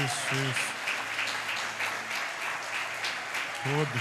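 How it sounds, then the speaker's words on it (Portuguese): A church congregation claps together in a steady, dense burst of applause that fills the room, while a voice speaks briefly at the start and again near the end. "Eu acho que você pode aplaudir mais forte."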